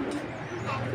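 A young Giribaz tumbler pigeon from a colorful collection coos softly and briefly, close at hand, with a low murmur behind it.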